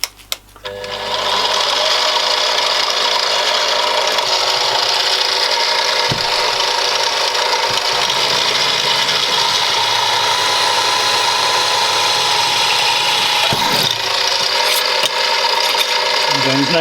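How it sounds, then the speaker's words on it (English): A mini mill drills a centre-punched hole during knife making, a loud steady motor whine with a grinding mechanical texture running continuously after a brief start-up, with occasional knocks. "it's very accurate and lets the drill bit do its work"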